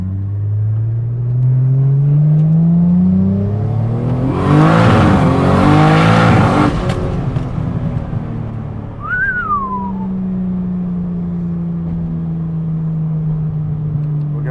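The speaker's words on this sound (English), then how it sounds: "So I'm manually downshifting." A 2JZ-swapped Nissan S15 Silvia with an 8HP70 automatic is manually downshifted, its engine note climbing and dropping in loud, close revs, with a whistling turbo sweep and a chirp of blow-off near the end.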